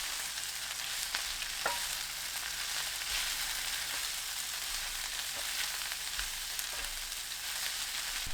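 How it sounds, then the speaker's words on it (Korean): Thin-sliced pork belly and chamnamul stir-fry in a hot pan, giving a steady close sizzle with occasional soft stirring scrapes, with no talking. "참나물 넣고 30초 볶아주세요."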